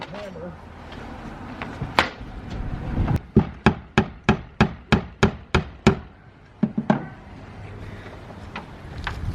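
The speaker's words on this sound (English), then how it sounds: "now I gotta try to do a left-handed hammer" A hammer driving nails on a roof of a 1925 house under repair, swung left-handed: a run of about a dozen sharp, evenly spaced blows, close and loud, with a few scattered strikes before and after amid wind noise.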